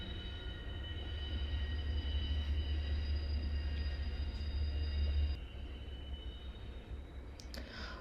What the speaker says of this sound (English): I'm gonna pause because the train is coming.